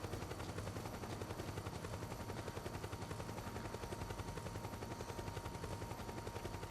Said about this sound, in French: Oh non, il y a un hélicoptère.